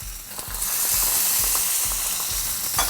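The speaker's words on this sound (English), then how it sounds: "All we need to do is fry the fish." Sea bass fillet frying skin-side down in a hot pan with a teaspoon of oil, a steady bright sizzle throughout with faint low thumps and clinks, close and alone with no talking.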